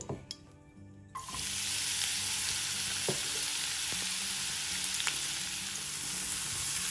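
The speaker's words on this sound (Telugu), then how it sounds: "ఇప్పుడు అదే ప్యాన్లో ఇంకొక స్పూన్ ఆయిల్ వేసి పొట్లకాయని వేయించుకోవాలి." Snake gourd pieces fry in a spoon of oil in a pan. After a quiet first second, a loud, steady sizzle starts and holds, broken by a few faint stirring clicks.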